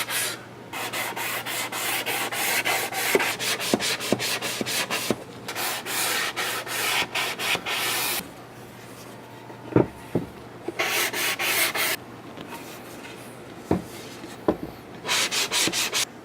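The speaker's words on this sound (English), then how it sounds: "This is a 3M fine sanding block." Repeated back-and-forth rubbing of a 3M fine sanding block on wood, in steady bursts with short pauses and a few knocks, close and fairly loud with no talking.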